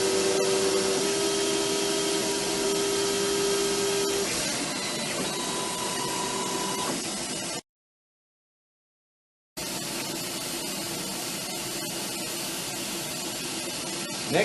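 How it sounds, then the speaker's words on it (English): A Gravotech LS900 rotary sign machine cuts through adhesive lettering material with a steady loud whirring buzz and a tonal whine. It drops to silence for about two seconds, then resumes with the same steady whir. "That cuts all the way through the adhesive so that I get a real good cut."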